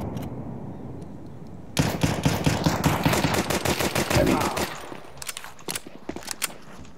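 Rapid automatic gunfire in Counter-Strike 2, a dense burst of loud, close shots lasting a few seconds after a quiet start, then tapering into a few separate sharp single shots.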